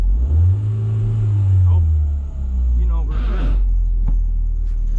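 A rebuilt Ford Focus engine runs as the car pulls away, a loud low rumble that rises and falls as it revs, with people talking over it.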